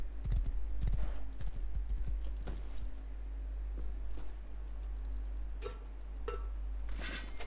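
Horse hooves clip-clop in a survival crafting video game, a run of sharp close hoof strikes early on that thins out into scattered lighter clops over a low steady hum, with no speech.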